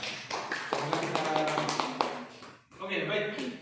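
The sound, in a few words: class applauding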